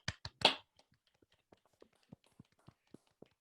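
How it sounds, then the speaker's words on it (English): Hands clapping over a video call at an online plenary panel on global governance and the EU, a few loud claps at first and then a slow, sparse run of thin, quieter claps spaced about a third of a second apart. "You get at least my clapping."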